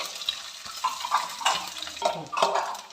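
Coconut pieces and cashew nuts fry in ghee in a metal pan, with scraping stirs, light clinks and a steady sizzle close at hand.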